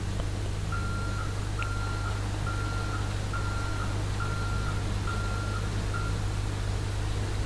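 A tow truck in GTA V backs up to tow a tanker truck. A steady series of reversing beeps sounds over a constant low engine drone, with no talking.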